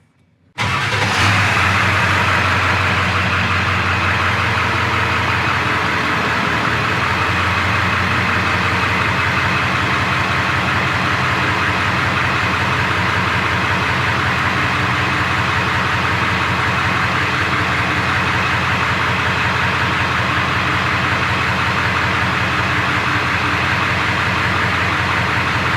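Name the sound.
7.3L Power Stroke diesel truck engine starting and idling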